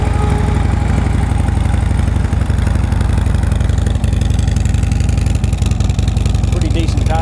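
A Harley-Davidson Road King FLHR motorcycle with factory exhaust idles close by in a loud, steady, low rumble with an even pulsing throb throughout.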